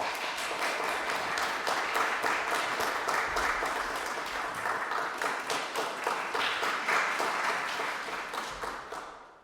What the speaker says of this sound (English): All right, everyone clap.